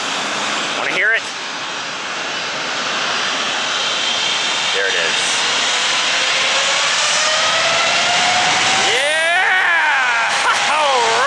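Airliner jet engines roar at full power during takeoff, a loud continuous rumble with rising whine, while people talk briefly over it.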